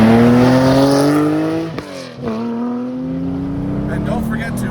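A Guntherwerks Porsche 400R engine revs loudly from close by with rising and falling tones as gears change. A person talks over it.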